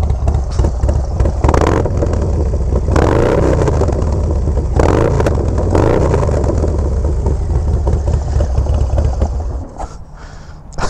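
A Harley low rider motorcycle with a 131 engine and Cyclorama 483 cam, revving hard in loud, close bursts of throaty engine roar that rise and fall, then settle toward a lumpy idle.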